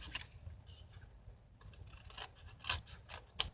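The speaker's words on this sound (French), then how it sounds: "on prend notre ciseau. Et on vient découper tout au rebord de la boîte." Scissors snipping cardboard along the edge of a box for an advent calendar, close and quiet, a series of irregular crisp cuts and rasping scrapes with brief pauses.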